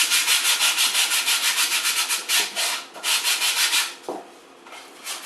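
Sandpaper folded in half is rubbed by hand over an MDF box, a close, steady rhythmic scratching in quick back-and-forth strokes that slows near the end; a voice briefly speaks.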